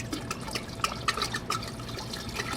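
Peach-flavored Jim Beam bourbon pours from a bottle into a homemade peach moonshine mix, a short stretch of gurgling, splashing liquid with small drips, close and moderately loud.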